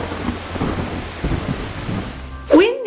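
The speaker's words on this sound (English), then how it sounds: "stormy," Rain pours steadily through a thunderstorm, dense and constant, with low rumbling underneath and a sharper thunder crack near the end, with no voices.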